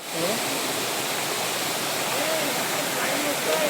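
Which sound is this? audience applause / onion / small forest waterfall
small forest waterfall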